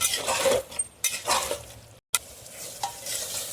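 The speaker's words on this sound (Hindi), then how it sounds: "गैस जला रहे हैं, भून ले रहे तेज आंच पे।" Soya keema fried on high flame, stirred with a metal spatula: close, loud sizzling with scraping strokes against the pan, broken by a brief moment of silence midway before the frying resumes.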